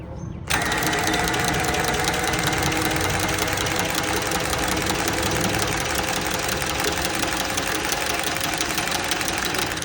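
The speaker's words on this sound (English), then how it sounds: "let's cut it too while it's sitting on the vise" Thick copper pipe clamped in a vise being cut with a tool, a loud, steady, continuous grinding buzz that starts abruptly after a brief quiet moment and runs unbroken to the end, with no talking.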